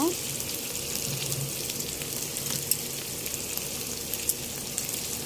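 Chopped onion and chilies fry with shrimp in a pan, giving a steady close sizzle with occasional stirring clicks and scrapes.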